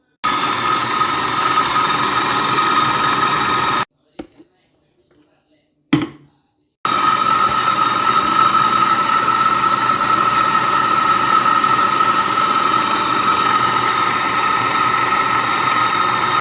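A mixer grinder grinding dates and flour whirs loudly and steadily, cuts out for a few seconds, then starts up again and keeps grinding.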